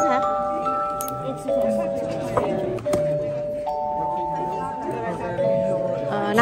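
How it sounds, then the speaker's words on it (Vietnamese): A small decorative bell rings in clear repeated tones, bright sustained chimes struck several times close by, with people talking over it. "Cái chuông này dễ thương ha."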